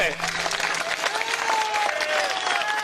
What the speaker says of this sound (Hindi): एक जबरदस्त ताली हो जाए